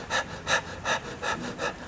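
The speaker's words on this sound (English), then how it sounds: "And then that relaxed panting comes back." A dog pants in a relaxed, steady rhythm, five even breathy bursts spaced about a third of a second apart, close and fairly soft, with no talking.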